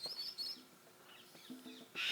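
Chirping birds in the Tiki Room attraction of the Disney Infinity 3.0 video game, several thin high tweets and trills scattered across a quiet stretch, with a louder burst at the end.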